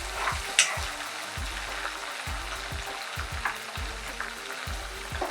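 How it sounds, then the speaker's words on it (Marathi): Ginger, garlic and chili paste frying in a pan of hot oil for chicken kheema, a continuous close sizzle with repeated scraping stirs in a steady rhythm, no voices. "आता मी यामध्ये वाटण घालते, आलं लसूण मिरची पेस्ट घालते।"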